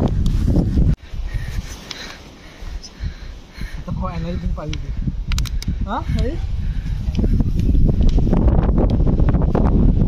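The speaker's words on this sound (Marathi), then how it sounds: "तर गाईज वारा पण आहे इकडे जरा भरपूर" Strong wind blowing across a high hillside on a waterfall trek, with a continuous low rumble and buffeting against the microphone. People talk over it.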